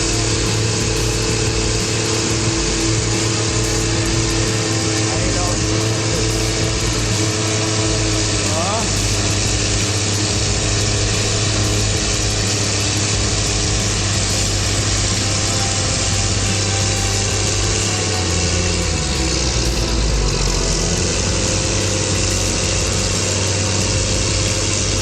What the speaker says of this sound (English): The stakes are high in this tractor duel.